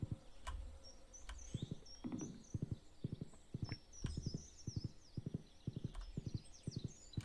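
Horse hooves clip-clop in a steady rhythm of sharp paired beats while riding in the Stardew Valley farming game, moderately close, with light chirping ambience above and no talk.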